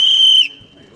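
A single sharp, shrill referee whistle blast for about half a second, close and loud, followed by quiet background murmur.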